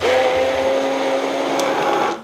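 A kitchen blender whirs loudly at high speed with a steady motor whine, chopping ingredients for homemade lomo saltado, running continuously alone before cutting off abruptly at the end.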